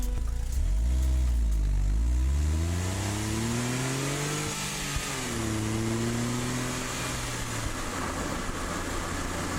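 Honda S660 cruising along a prefectural road near the coast in Tottori, engine droning steadily with rising and falling pitch as it shifts and accelerates, along with constant road and wind noise from inside the cabin.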